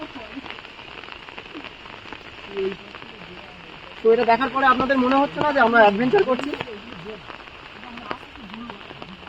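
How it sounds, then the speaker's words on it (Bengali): Rain patters steadily on surfaces around an outdoor picnic in stormy monsoon weather, continuing under a person talking loudly for several seconds in the middle. "চারিদিকে বৃষ্টি হচ্ছে"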